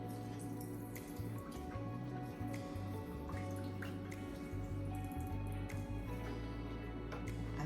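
Lime juice squeezed by hand from rolled, cut limes, dripping steadily into water for sea moss gel, a close, continuous patter of wet drips over a low steady hum.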